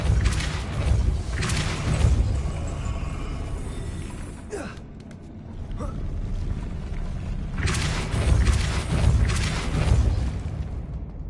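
A Depulso spell blast fires in a Hogwarts video game, landing as dense booming bursts with a sharp crack partway through, then a second heavy boom, all loud and close.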